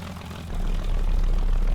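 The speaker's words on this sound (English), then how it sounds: "let's hit the ignition on this plane here." A Bf 109 fighter's engine cranks and catches in the War Thunder game, starting as a low rumble and swelling into a loud, steady propeller drone that holds strong and close.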